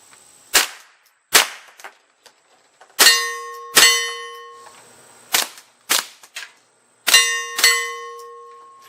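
Subsonic .22LR rounds from a Remington RS22 rifle fire in pairs at an outdoor range: two sharp cracks strike dirt, then two hit a steel target with a ringing clang, and the sequence repeats.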